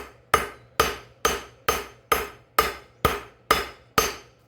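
Nine evenly spaced, sharp hammer blows ring out as hot steel is peened wider while forging a karambit, each strike loud and close with a brief decaying metallic ring, no voices.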